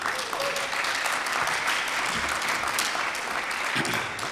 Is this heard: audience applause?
yes